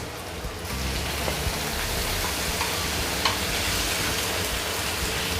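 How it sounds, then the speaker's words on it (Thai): Small pieces of tomato stir-frying in a pan for a northern Thai chili dip, a steady close sizzle with faint stirring scrapes throughout. "เดี๋ยวผมจะ เริ่มใส่ มะเขือเทศที่เรา หั่นเตรียมไว้ ชิ้นเล็ก ๆ นะครับ เอาเขาไปผัดให้น่วมเลย"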